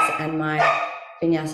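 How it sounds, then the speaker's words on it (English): A pet dog barks close by, its sharp yaps overlapping continuous indoor speech that runs through almost the whole clip, with a brief pause before talking resumes. "sorry, that's my dog"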